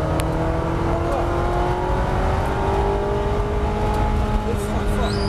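At full throttle on the Circuit du Laquais, a race car's engine drones loud and close with a steadily climbing pitch, and a voice talks faintly over it.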